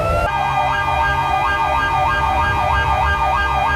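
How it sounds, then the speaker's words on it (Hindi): A loud wailing police siren starts abruptly and sweeps up and down in a fast, regular warble, close by and continuous. "siren on"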